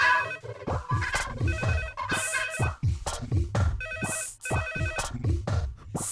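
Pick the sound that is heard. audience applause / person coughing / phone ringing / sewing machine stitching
phone ringing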